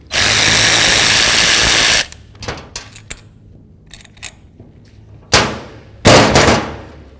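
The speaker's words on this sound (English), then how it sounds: "Now we're going to use a 10mm to remove our 2 mounting bolts." A power tool drives a 10mm socket to remove the wiper motor mounting bolts on a 2002-2008 Dodge RAM 1500: a steady two-second whir up close, then scattered clicks and ticks, and two short final bursts of the tool.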